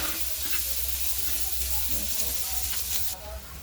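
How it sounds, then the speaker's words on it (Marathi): Onion fries in a pan, producing a loud, dense, steady sizzle that fills the whole stretch and eases slightly near the end. "कांद्याला थोडा वेळ जास्त लागतो, 5 मिनिट लागतात कांदा भाजून घ्यायला।"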